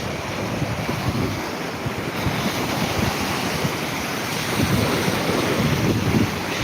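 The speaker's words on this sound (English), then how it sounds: "there's some decent sized little waves just coming around there" Ocean waves surge in at a boat ramp during a fishing outing, a steady broadband wash with wind buffeting the microphone throughout, swelling slightly louder toward the end with no voices.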